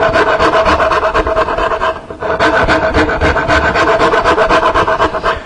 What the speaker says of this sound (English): This is a cabinet maker's rasp. It's a Nicholson.